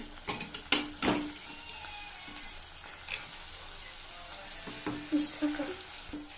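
Onions and tomatoes with turmeric and sambar powder fry quietly in a pan, giving a faint sizzle broken by several sharp clinks of a spoon stirring against the pot.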